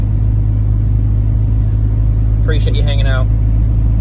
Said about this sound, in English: I'm gonna finish driving to work.